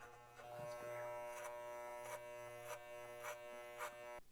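A Wahl electric hair clipper fitted with a number 3 guard hums steadily up close, with rhythmic brushing pulses roughly every half second as it rocks through hair to blend it.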